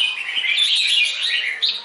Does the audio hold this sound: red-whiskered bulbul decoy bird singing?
yes